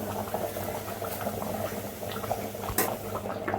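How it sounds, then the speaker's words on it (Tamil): Mutton trotter broth for Madurai-style paaya bubbling in a pot, a constant close, dense boiling burble with small pops and splashes throughout. "இது நல்லா கொதி வரட்டும்."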